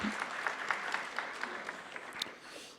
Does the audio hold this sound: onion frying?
no